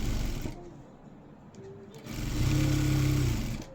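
A sewing machine stitching a blouse and its lining whirs in short bursts, first a lighter run, then a louder, steady, close-up drone for over a second before it stops.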